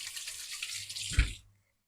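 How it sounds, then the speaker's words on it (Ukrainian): Oil poured into a frying pan while making potato pancakes with mushrooms and cheese: a close, steady splashing stream for about a second and a half, then it stops and silence follows. "Так, заливаю масличком, зараз трошки погріється"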